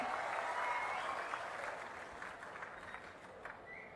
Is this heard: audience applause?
yes